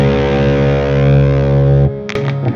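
Electric guitar played through a Mesa Boogie Dual Rectifier amplifier, a heavily distorted, sustained chord ringing loud and steady for nearly two seconds before cutting off, followed by a few short choppy distorted stabs.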